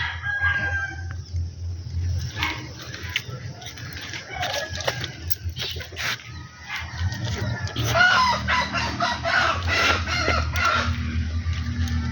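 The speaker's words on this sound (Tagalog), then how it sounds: "Yung manok ko naghihintay." A flock of chickens clucks steadily nearby, and a rooster crows partway through over a murmur of farmyard background noise.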